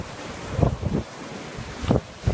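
Ocean waves roll in at a sunny shore near a rock pillar, with a few soft swells rising and falling over steady wind noise on the microphone.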